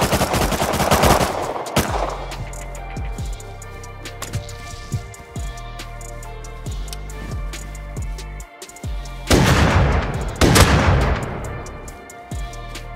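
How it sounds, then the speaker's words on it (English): Bursts of MP5 submachine gun fire in the game Rust, loud and close, with rapid repeated shots and short pauses between volleys. "That dude has the MP5 shooting me."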